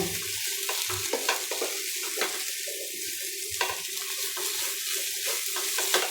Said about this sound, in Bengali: ঘি দিয়ে সুন্দর করে ভেজে নিতে হবে